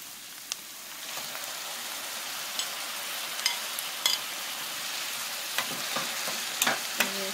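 Tomatoes hit a pan of cooked onion for huevos a la mexicana, a soft steady sizzle with occasional spatula scrapes and clicks, moderately quiet and close with no talk.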